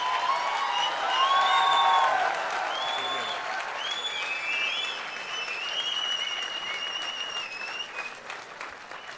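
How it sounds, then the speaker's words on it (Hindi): Loud, dense audience applause fills a mushaira poetry gathering in Bhopal, staying steady for several seconds before easing slightly toward the end, with a few whistles and voices mixed into the clapping. "एक बार जरा जोरदार तालियों की गड़गड़ाहट करिए"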